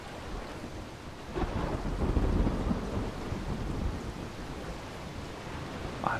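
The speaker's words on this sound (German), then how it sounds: "hier regnet's." Steady rain hisses throughout with a low rumble of thunder swelling in the middle, no voices, in the video game Dying Light.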